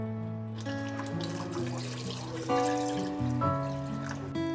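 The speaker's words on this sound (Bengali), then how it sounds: "তারপরে একটু গরম জল দিয়ে দেবো।" Hot water is poured into a pot of potato curry, a steady close trickling pour lasting several seconds with no talking.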